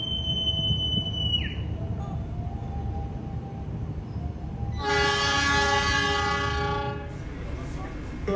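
Argo Muria passenger train running along the north Java coast, a steady loud rumble of wheels and carriage with a strong train horn blast partway through, heard from on board.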